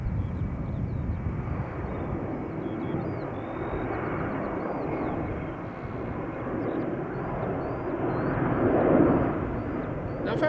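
A China Southern Cargo Boeing 777 freighter, about a year old, rolls at Schiphol Airport with a steady broadband engine roar that swells slightly toward the end, distant and continuous.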